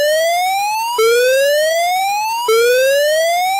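Turkmenistan emergency alert system alarm: a loud electronic siren tone that sweeps steadily upward, drops back and rises again in three repeating cycles, with no voices.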